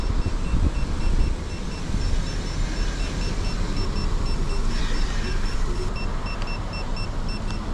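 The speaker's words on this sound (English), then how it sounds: "that beep is not going to stop." A Segway Ninebot Max G2 electric scooter running near overheating sounds a faint, steady series of regularly spaced high warning beeps throughout, heard under loud wind buffeting and nearby car traffic.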